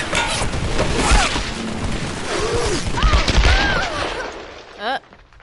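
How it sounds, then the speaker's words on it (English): Gunshots and bursts of gunfire in the game Tomb Raider ring out amid a loud, busy mix of effects, shouting voices and music, ending with a final sharp burst. "he's trying to shoot out the light"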